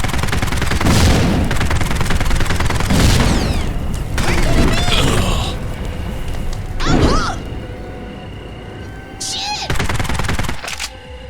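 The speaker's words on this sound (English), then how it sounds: "By default, you get an infinite ammo, low damage, low accuracy submachine gun." Submachine gun fire in the PC shooter Postal Redux: repeated loud bursts of rapid shots with booming impacts, separated by short quieter gaps, while a voice talks over the action.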